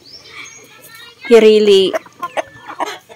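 A hen on a small farm gives a loud, drawn-out clucking call up close, followed by softer scattered clucks, while a person talks briefly beneath.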